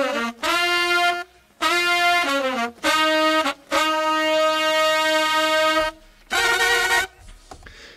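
Saxophones play a chorus riff in unison, bright brassy horn tones in short repeated phrases separated by brief gaps, with a longer held passage midway and a final stab, close and loud with no talking.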